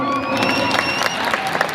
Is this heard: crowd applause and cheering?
yes